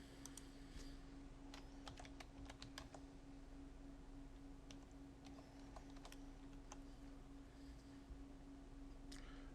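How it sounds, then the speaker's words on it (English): Typing on a computer keyboard while logging into a cloud account, steady bursts of close key clicks over a constant electrical hum, with no speech. "So I'll just start typing."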